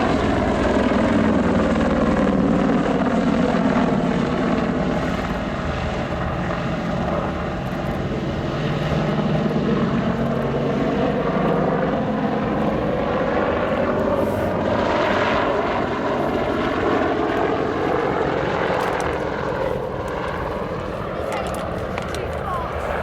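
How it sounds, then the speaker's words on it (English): A Boeing-Westland WAH-64 Longbow Apache attack helicopter from the Army Air Corps performs an airshow display at RIAT 2012, its loud rotor and turbine drone sweeping past with shifting pitch, while an announcer speaks over it. "the Apache is not just a powerful attack helicopter,"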